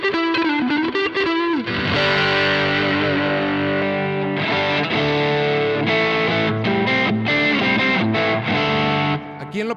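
Electric guitar played through a Fender Tweed amp model on a Boss ME-90 or NUX MG-30 multi-effects unit, giving a loud, continuous overdriven tone with sustained chords and brief note changes throughout.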